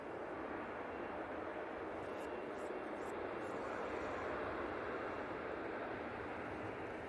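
A Ryanair airliner from Paris rolls out after touchdown at Manchester Airport, a faint, steady engine rumble heard at a distance beneath a murmur of nearby talk.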